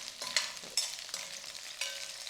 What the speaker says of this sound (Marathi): फ्लॉवरवर हलके डाग येईपर्यंत त्याला फ्राय करून घ्यायचं